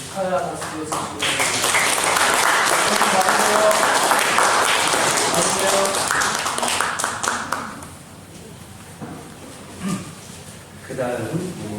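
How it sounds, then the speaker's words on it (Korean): Congratulatory applause from a church congregation during an anniversary worship service, a dense wash of clapping that swells, holds for several seconds, then thins out as voices take over. "축하 박수 주시고요"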